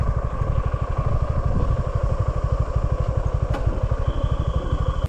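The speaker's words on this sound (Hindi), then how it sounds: "बाइक पार्क करते हैं और फिर एंट्री टिकट लेते हैं." A motorcycle being parked at the bike parking of an eco park in Dandeli idles close by in a loud, steady, evenly pulsing throb that runs unbroken until a sudden cut at the very end.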